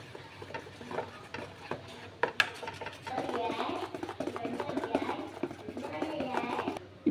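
Rava cake batter with vanilla essence is stirred in a bowl, a soft rhythmic scraping and sloshing that grows busier and more continuous after a few seconds, with faint background hum.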